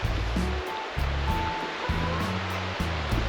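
A river flowing beside a campsite at Lacar Lake in San Martín de los Andes, Argentina, a steady close rush of water with no talking, broken by some low rumbling bursts.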